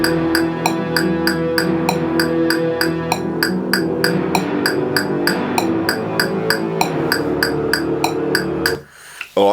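A band's backing track as heard in an in-ear monitor mix, a steady full music mix with a crisp, regular click or hi-hat pulse running throughout, ending abruptly.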